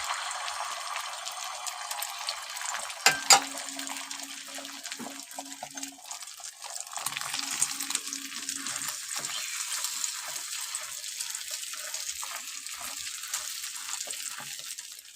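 Beaten egg hits hot oil in a pan and sizzles loudly and steadily, a bright crackling hiss with a sharp burst as it goes in and some light stirring.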